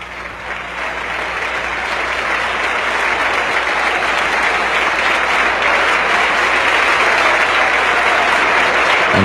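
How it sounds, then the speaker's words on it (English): Sustained, enthusiastic applause fills a congressional chamber as a large audience claps loudly and continuously without letup, a dense wash of hands that swells slightly and holds. "you can hear the sustained and very enthusiastic applause"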